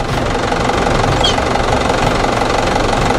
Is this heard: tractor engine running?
yes